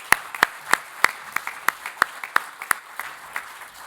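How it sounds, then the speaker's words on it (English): Sparse, distinct hand claps ring out one by one at a steady pace for award winners at a conference luncheon, about a dozen sharp claps that thin out toward the end. "let's give one more round of applause for all of our winners here today"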